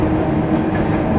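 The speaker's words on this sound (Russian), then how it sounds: "там у нас электрички едут" Electric suburban trains pass in the distance outdoors, a steady low rumble and rolling rail noise with no voices.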